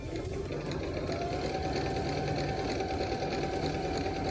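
A Juki Baby Lock sewing machine stitches thick fabric such as curtain or trouser cloth, with a close, steady, rapid mechanical whirring hum that continues throughout.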